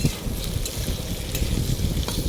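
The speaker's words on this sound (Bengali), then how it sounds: "সেটাকে আলুটাকে ভেজে নিতে হবে ভালোভাবে, লাল লাল করে ভেজে নেবো।" Cut potatoes fry in hot oil in a pan until browned, a steady close sizzle with faint crackle and occasional stirring scrapes.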